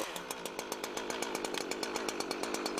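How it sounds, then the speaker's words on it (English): A chainsaw runs steadily near the microphone right after starting, its chain brake still engaged, giving a continuous buzzing engine note with even rhythmic pulsing throughout. "When you've got the saw started, don't disengage the chain brake until you're ready to saw."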